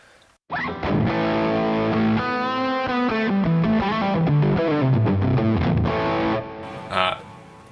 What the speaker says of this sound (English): I'm using a Les Paul here